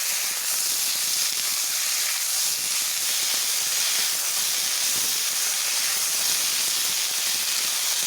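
Potatoes frying in hot oil with panch phoron five-spice and chillies, for a bitter gourd dish, give a steady, loud hiss that runs evenly throughout without pause.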